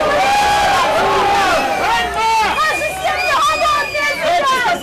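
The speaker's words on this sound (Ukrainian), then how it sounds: "Коли ж той вийшов, натовп зустрів його вигуками" A protest crowd outside a city council building in Lysychansk shouts at the council secretary, with loud overlapping voices and rising yells forming a dense, close-up din throughout.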